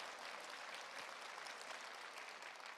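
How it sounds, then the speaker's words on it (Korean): Audience at a skincare product seminar applauding, with a quiet, even patter of clapping that runs steadily throughout and sounds distant. "박수 치시려면 시원하게 치세요"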